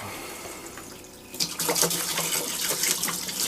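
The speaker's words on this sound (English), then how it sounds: "What we're going to do is pour some in the holding tank." Liquid antifreeze poured into an RV holding tank during winterizing: a quiet pause, then a splashing, gurgling stream that starts abruptly and keeps running at moderate level.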